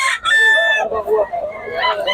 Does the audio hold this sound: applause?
no